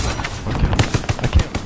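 Rapid gunfire in Call of Duty: Vanguard: a fast, loud string of about a dozen close shots in steady rhythm, with no voices.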